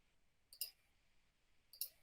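A computer mouse gives two crisp, close right-clicks about a second apart, with near silence around them.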